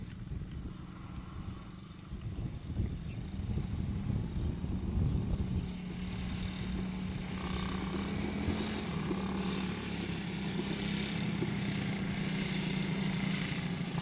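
A quad bike (ATV) engine drones steadily and fairly close, its low motor hum shifting in pitch as it rides over bumpy ground, with some wind noise and no clear talk.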